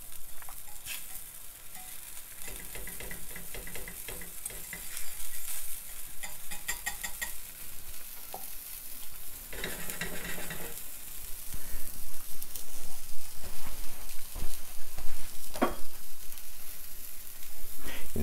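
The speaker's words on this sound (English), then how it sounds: "we want to cook the alcohol out of the wine, and we want it to reduce a little bit" White wine sizzles and bubbles steadily in a hot pan after searing chicken breast, a continuous close frying hiss with occasional stirring scrapes, growing slightly louder toward the end.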